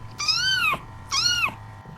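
A cat meows twice, each call long, clear and close, with a short pause between them over a quiet background hum.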